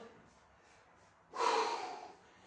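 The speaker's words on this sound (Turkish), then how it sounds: "Burundan derin derin nefes alıyorum." A single deep breath drawn in through the nose during a pilates resistance-band workout, a loud rushing inhale of about three quarters of a second following quieter, softer breaths.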